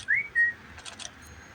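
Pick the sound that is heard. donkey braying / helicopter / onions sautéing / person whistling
person whistling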